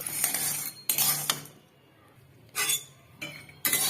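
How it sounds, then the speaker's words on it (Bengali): Dry-roasting whole spices with two dried red chillies in an ungreased pan, ahead of grinding them: bursts of metallic scraping and clinking of a utensil against the pan come and go between quiet pauses. "এগুলোকে আমি গুঁড়ো করব, তাই শুকনো খোলায় ভেজে নিচ্ছি।"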